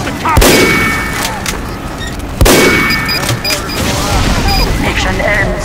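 Gunfire in Team Fortress 2, with two sharp loud shots a couple of seconds apart, each one ringing out with a metallic tail, over busy game noise and chatter.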